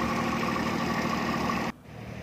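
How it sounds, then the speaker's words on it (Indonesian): A Doosan LSCK4 tower lamp's engine idles while warming up, a steady, close, even drone that cuts out abruptly near the end, leaving a quieter hum. "tunggu sekitar 5-10 menit untuk engine melakukan warming up"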